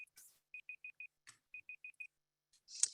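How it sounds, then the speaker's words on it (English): A timer goes off during a parks and recreation commission meeting, two quick bursts of four clear electronic beeps each, fairly quiet and alone, with a few soft clicks and a brief louder rustle near the end. "my timer's going off."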